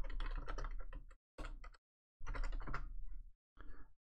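Bursts of typing on a computer keyboard while entering a comment about changing firewall policies, several quick clattering runs separated by short pauses, close and fairly quiet.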